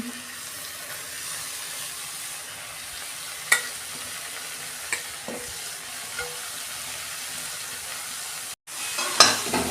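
Chopped cabbage stir-fried with spices in a pan gives a steady close sizzle, with a few scattered clinks of the spatula and a brief dropout near the end.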